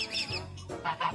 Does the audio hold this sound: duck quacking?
yes